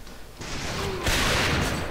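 Rapid bursts of gunfire from the game A.V.A (Alliance of Valiant Arms), a dense crackling volley that grows louder partway through and keeps going.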